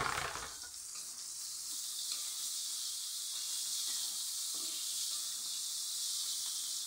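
Chili dropped into a hot frying pan sizzles in a loud, steady hiss that flares at the start and holds for several seconds, with faint stirring clatter; the dish is stir-fried eggplant with shredded boiled chicken.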